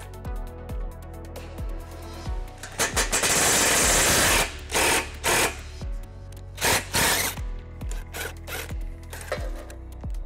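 A power tool with a socket spins nuts off the bumper beam of a 2017 Mercedes GLC 300, giving several loud whirring bursts of varying length separated by short pauses, with faint ticking in between.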